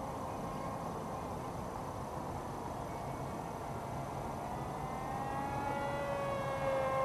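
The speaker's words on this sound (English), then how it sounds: "Beautiful plane." A model airplane drones steadily overhead on a morning at a lake, its engine whine rising and shifting in pitch toward the end over a constant broadband outdoor hiss.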